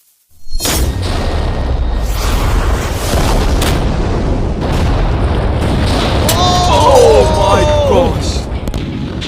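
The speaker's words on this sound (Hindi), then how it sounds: "तेज धमाका था।" A deep, sustained explosive roar of a creeper exploding in a video game fills the clip after a brief silence, rumbling loudly for several seconds with a few bright chirping tones near the end.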